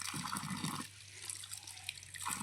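Cold water runs steadily from a tap, splashing close by for a couple of seconds, with no voices.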